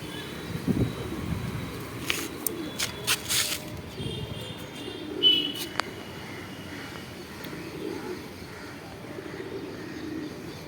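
Pigeons coo softly in a loft, low murmuring calls near and intermittent, with occasional wing flutters and sharp clicks, while someone talks over them.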